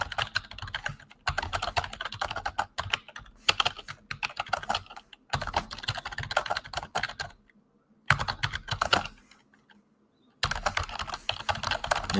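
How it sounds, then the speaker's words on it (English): Fast typing on a computer keyboard, close and fairly quiet, comes in busy bursts of clicking broken by a few short silent pauses, with no talking. "The sound of your typing is taking me back to like my corporate America days."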